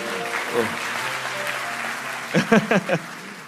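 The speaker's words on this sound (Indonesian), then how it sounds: "kasih tepuk tangan tuh semuanya" Audience applause at a Christian church sermon in Kupang, East Nusa Tenggara, a steady clapping wash with a few louder bursts of a voice near the end.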